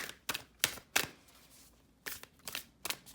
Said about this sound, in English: Let's do this shuffle here.